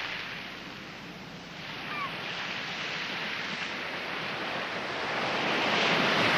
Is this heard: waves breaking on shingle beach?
yes